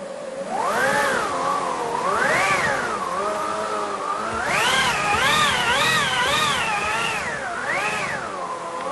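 An aeoliphone wind machine, the orchestral instrument heard in Ravel's Daphnis et Chloé, produces a continuous whooshing howl that rises and falls in pitch in repeated swells as it is cranked faster and slower, loud and alone.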